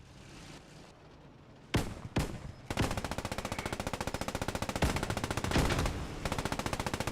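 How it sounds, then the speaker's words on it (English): Rapid automatic cannon fire from an anti-aircraft gun in the Post Scriptum war game, loud close bursts of fast repeated shots after a few separate heavy reports, sustained to the end. "More good shots down range there by this quad"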